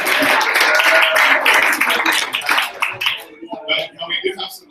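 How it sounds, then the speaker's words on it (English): An audience applauding at a startup weekend final presentations event, dense clapping that thins into scattered claps, with people talking among the crowd. "let's give a round of applause for them"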